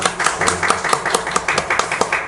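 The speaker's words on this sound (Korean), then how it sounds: "박수로 환영하겠습니다" A church congregation claps to welcome visiting guests during a Sunday service, a short burst of fairly steady, rhythmic applause from a nearby crowd.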